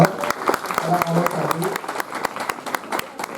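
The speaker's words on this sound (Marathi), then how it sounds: "एका जोऱ्यात एक एनर्जेटिक टाळा होऊन जाऊ द्या सर्व" An audience at a state-level calligraphy convention in Kolhapur breaks into energetic applause, a dense, loud patter of many hands clapping at once, with a voice briefly heard over it.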